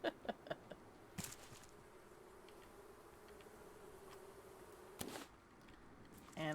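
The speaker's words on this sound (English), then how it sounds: "And I looked down, no, it's just bees." Bees buzzing in the game Raft, a faint, steady drone that runs throughout behind a few sharp clicks and knocks.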